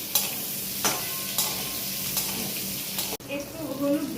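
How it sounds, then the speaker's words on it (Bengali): Whole boiled potatoes, lightly scored and salted, stirred in hot oil in a pan, a steady close sizzle with repeated scraping strokes of the spoon, one sharp knock near the end. "এবারে এইটাকেও আমি একটুখানি তেলে নেড়ে নেব।"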